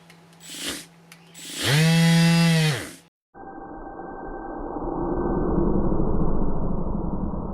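A Makita 18V DBO380 cordless random orbit sheet sander whines up briefly, stops, then runs again with a steady, loud buzzing hum that gradually builds in intensity.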